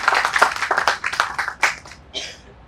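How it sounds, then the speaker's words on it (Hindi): A small crowd at a Hindi literary award ceremony claps in a brief scattered burst that tapers off within a couple of seconds. "ताली बजा के स्वागत करो।"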